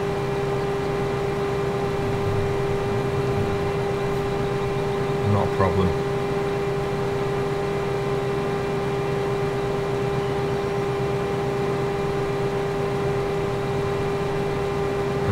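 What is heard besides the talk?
tractor engine running in video game Farming Simulator 2015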